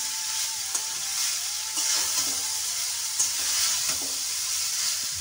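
Egg chowmein noodles sizzle steadily as they are stir-fried with vegetables in a hot pan, a constant close hiss broken by soft scraping and tossing knocks every second or so.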